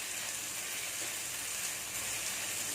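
Onions sauté in ghee for a chicken kurma, giving off a dense, even hiss of sizzling with no pauses.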